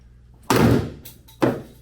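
A shower head is smashed against an Ekopel 2K refinished bathtub, making two loud, close impacts about a second apart, each a sharp hard bang that rings out briefly.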